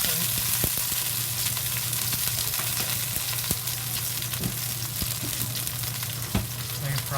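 Scallions, cilantro and green onions fry in hot oil with a steady, close, dense sizzle, broken by occasional sharp pops and faint stirring clicks.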